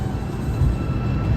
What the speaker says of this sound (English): So I'm waiting on a number 5 train now.